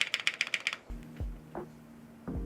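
A quick burst of about eight crisp key clacks, followed by a few deeper thumping keystrokes spaced apart, close and fairly quiet, from a Zoom98 gasket-mount mechanical keyboard with GMK keycaps and WS stabilizers.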